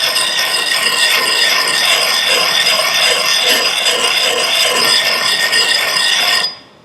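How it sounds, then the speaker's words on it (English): A metal tool blade rubbed in circles on a round sharpening stone, a loud continuous grinding rasp with a rhythmic scraping texture that stops abruptly near the end, with no talking. "they have a round stone, and they just kind of rub it in a big circle like this"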